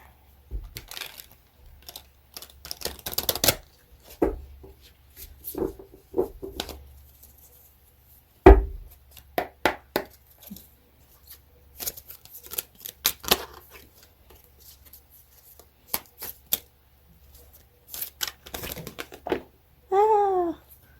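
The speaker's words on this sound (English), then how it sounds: "That was a bad shuffle. Let's try that again." Crisp riffling bursts of shuffled playing cards repeat several times, with brief pauses between, close and fairly loud, with a quick murmur near the end.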